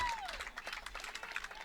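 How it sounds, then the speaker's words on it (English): Crowd at a high school baseball game, Sparta at Holmen, cheering and clapping after a double, a broad wash of applause and voices at moderate distance, steady for a couple of seconds. "And the crowd goes wild"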